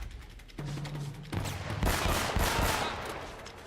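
Gunfire in the video game Uncharted: Drake's Fortune, bursts of automatic shots and crackling impacts building up mid-clip over a low background hum, moderately loud, with no voices heard.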